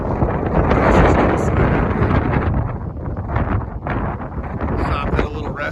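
Strong wind at a roadside rest area buffeting the microphone in loud, rumbling gusts that rise and fall, with muffled sounds underneath.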